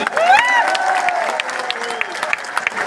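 Crowd applause at a large rally for reservation rights in a Delhi stadium, broad clapping with cheering and voices mixed in, loud and sustained throughout.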